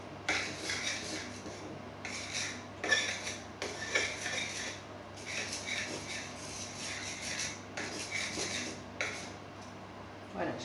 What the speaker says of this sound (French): Ensuite, je vais venir mélanger toute cette sauce.